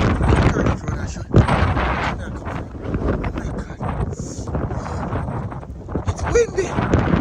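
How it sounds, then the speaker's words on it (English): Strong snowstorm wind buffets the microphone in loud, rumbling gusts that roar continuously, nearly drowning out other sound. "Windy. It's windy."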